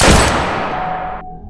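A single loud gunshot sound effect, sharp close blast that decays quickly with a brief ringing tail, no voices.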